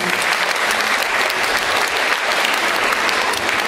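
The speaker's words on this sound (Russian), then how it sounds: "Ваши аплодисменты." An audience applauds steadily after a choreographic ensemble's dance performance at a concert, a dense, loud and even wash of many clapping hands with no talk over it.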